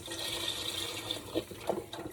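Broth made from water and bouillon pours steadily into a soup pot for lentil chickpea soup, a continuous close splashing gush with a couple of brief glugs near the end.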